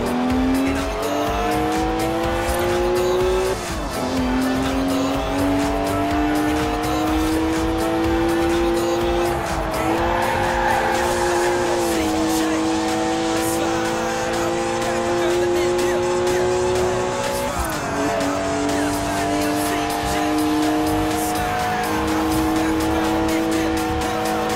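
BMW engine revving in long sustained pulls with tire squeal while drifting in the video game Forza Horizon 4, pitch dipping and climbing at each gear change, with a voice talking over it.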